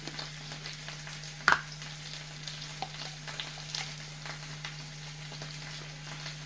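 A tablespoon of garlic fries in a pan for chicken mole, giving a steady, soft sizzle with a low hum beneath and one brief louder clatter near the start.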